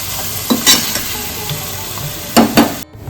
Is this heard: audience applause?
no